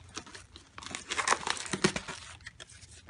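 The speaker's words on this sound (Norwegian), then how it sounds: "En krøllet sammen lapp." A crumpled paper note being handled up close, giving soft irregular crinkles and rustles that come in bursts, quiet and with no talking.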